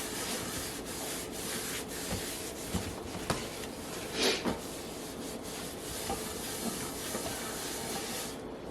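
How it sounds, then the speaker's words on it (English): Raw turkey rubbed and wiped around the inside of a crock pot, giving a steady scraping, rubbing hiss with irregular squeaks and soft knocks. It runs close and continuous for several seconds with no talking. "take your turkey and just wipe the inside of my crock pot out"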